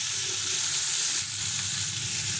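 Ginger garlic paste sizzles in hot oil for mutton pulao, a steady, loud, continuous frying hiss with no voices.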